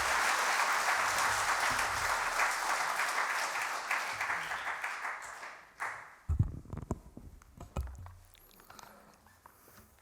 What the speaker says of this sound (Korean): 우리 장로님 나오실 때 박수로 환영하며 축복해 주시기 바랍니다